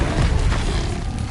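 An Incendio fire spell cast in Hogwarts Legacy, a short, loud, low boom with a rushing whoosh of flame behind it.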